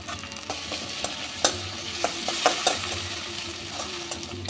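Whole green chillies fry in hot oil in a pan, producing a continuous close sizzle with occasional sharper pops and stirring knocks, no voices.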